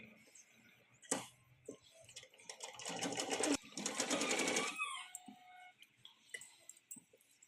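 A sewing machine stitches a blouse in close, rapid bursts: a short clatter, then a longer steady run of needle strokes, followed by quieter ticking as the fabric is adjusted.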